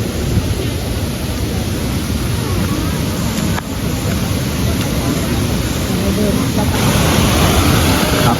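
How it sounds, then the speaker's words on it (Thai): Sarika Waterfall in Nakhon Nayok runs with high water in July, producing a constant, loud broadband roar of rushing water that stays steady and close throughout. "เราก็เดินทางมาถึงบริเวณน้ำตกสาลิกานะครับ ค่อนข้างที่จะสวยเลยทีเดียว น้ำเยอะนะครับ"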